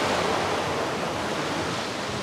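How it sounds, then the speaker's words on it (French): A small river rushing steadily nearby, a continuous broad watery hiss with no breaks or voices. "La belle petite rivière"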